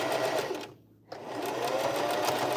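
A sewing machine stitching a bucket hat runs in fast, steady bursts at close range, stops for a brief pause, then starts again and keeps whirring continuously.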